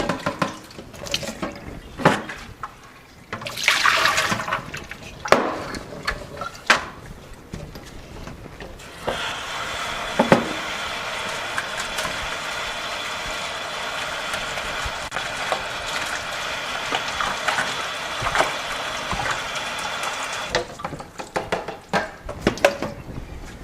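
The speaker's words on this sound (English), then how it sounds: "So let's rinse the walls of the bucket off." Water runs to rinse the inner walls of a bucket of microgreen seeds, a steady close splash and hiss lasting about eleven seconds, with handling knocks and clatters before and after it.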